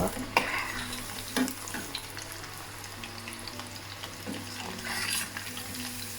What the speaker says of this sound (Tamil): சிக்கன் வடிவாக குக் பண்ணப்படணும். இடையே கிளறி விடுங்க.